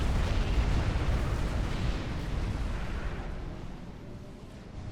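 A large explosion from a Cybrid Singularity strike in the strategy game Supreme Commander: Forged Alliance, a loud, rumbling blast whose roar fills the clip and slowly fades over several seconds with no talk.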